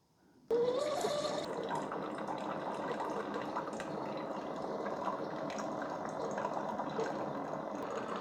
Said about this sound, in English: So it brews a K-cup in about a minute and a half.